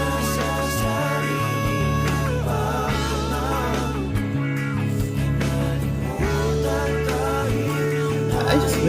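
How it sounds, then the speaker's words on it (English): Wah guitar effect sitting in the background of a full band song, a sweeping filtered guitar tone under steady drums and bass with sung vocals, loud and dense throughout. "you can hear some wah in the background."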